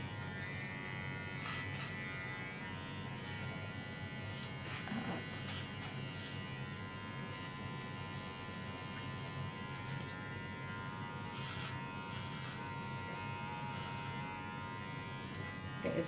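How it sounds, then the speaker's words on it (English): Small dog grooming clipper, a bit short on power, buzzes steadily and close throughout, a constant electric drone with a few faint handling knocks. "It is a good little clipper though."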